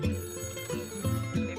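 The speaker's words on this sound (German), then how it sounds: "Telefon." An old-style telephone bell rings in repeated bright metallic bursts, steady and moderately close, with no voices over it.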